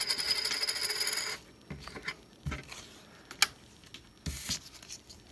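A small Pikachu coin from a Jolteon Pokémon tin drops and clatters, giving a few light metallic ticks and one sharper clink after a rustling start.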